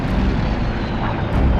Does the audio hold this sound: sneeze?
no